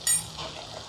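Paneer butter masala with tomato and chili being stirred as it fries in a pan, a soft sizzle with a brief scrape at the start, close and steady.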